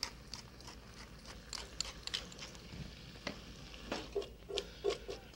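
Vegetables sizzle in butter in a pan, a soft continuous fry broken by frequent stirring clinks and scrapes, fairly quiet and close, with no talking.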